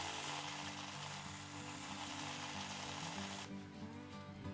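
A small, underpowered belt sander grinds a wooden knife carved from scrap wood, giving a steady humming motor whine and abrasive rasp that cuts out near the end, fairly faint, with no voices.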